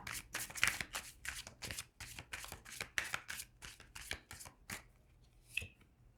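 Tarot cards shuffled and laid out by hand in a quiet room, a steady run of crisp riffling flicks and soft slaps that thins out toward the end, close and fairly faint with no voices.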